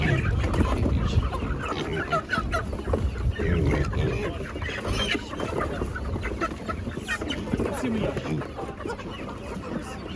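Many young chickens at a market cluck and chirp continuously at close range, a busy overlapping chorus with people talking in the background.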